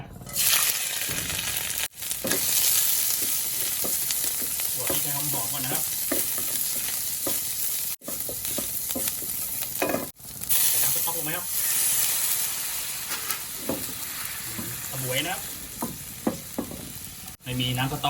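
Loud, continuous sizzling as pounded fingerroot, lemongrass and garlic are stir-fried in a hot wok, with scraping and tossing sounds and brief pauses in the hiss.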